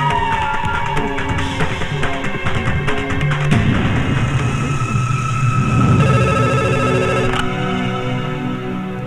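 A telephone rings in repeated bursts, loud and close, over a dense musical film score with no speech.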